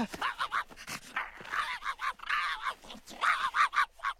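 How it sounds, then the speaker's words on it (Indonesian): A dog close by lets out a rapid string of excited yips and barks mixed with panting. "dia menggonggong seperti itu saat dia melihat"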